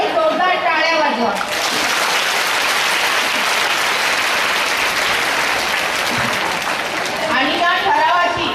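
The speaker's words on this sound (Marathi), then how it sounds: "जोरदार टाळ्या वाजवा." Loud, sustained applause from a crowd of teachers and guests at a school gathering fills several seconds, with a few spoken words from a speaker before and after it.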